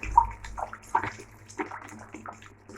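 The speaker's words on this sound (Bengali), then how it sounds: "এবার দিয়ে দেবো জল, পাতলা ঝোল বলেছিলাম" Water poured into a pan of curry being made into a thin gravy, a brief splashing, gurgling pour that comes through in a few close bursts over a couple of seconds.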